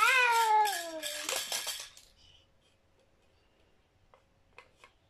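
A young kitten lets out a loud, drawn-out meow followed by a few shorter cries, close to the microphone, then quiet room noise with a couple of faint clicks.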